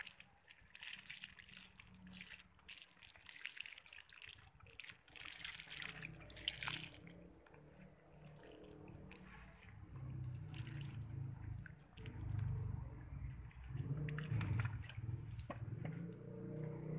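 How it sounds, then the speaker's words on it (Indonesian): Water poured onto an Aglaonema Big Roy houseplant, a faint trickling and splashing that comes and goes, quiet and fairly close. "Baru kita siram air secukupnya."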